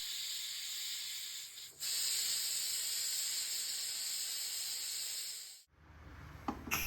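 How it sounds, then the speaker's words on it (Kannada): A pressure cooker holding chickpeas and water whistles out steam in a loud, steady hiss that dips briefly, carries on, then cuts off abruptly near the end. "ಕುಕ್ಕರ್ ಮುಚ್ಚಳ ಮುಚ್ಚಿ ಒಂದು 4 ವಿಸಿಲ್ಸ್ ಆದರೂ ಇದನ್ನು ಕೂಗಿಸ್ಕೊಳ್ಳಿ"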